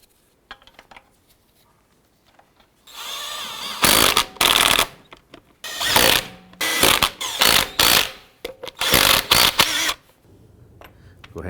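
Lug nuts on a 2004-2009 Dodge Durango wheel being snugged down with a power tool: several loud, rattling impact bursts of about a second each, separated by short pauses, following faint handling clicks at the start.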